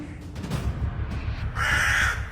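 A cartoon crow gives loud, harsh caws, one near the start and a sharper, brighter call toward the end, with no talking over them.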